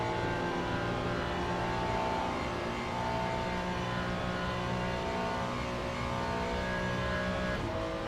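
A Hypercar race car in the Le Mans Ultimate racing game, a steady high-revving engine drone with layered tonal harmonics, sustained loudly throughout without talk.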